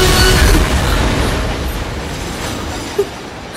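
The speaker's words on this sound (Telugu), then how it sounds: "ట్రైన్ వస్తుంది." A train approaching on the tracks, a loud, broad low rumble that starts strong and slowly eases, with a brief sharp knock near the end and no voices.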